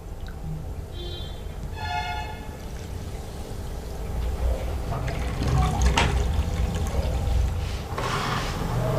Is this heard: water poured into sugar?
yes